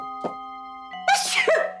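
One sudden sneeze sounds indoors against a steady background hum, close and loud, with short vocal noises just before it.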